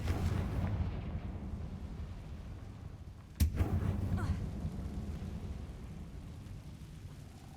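A Confringo blasting spell going off in the video game Hogwarts Legacy: a sharp explosive crack over a steady rumbling game soundscape, followed by a rolling boom that fades away.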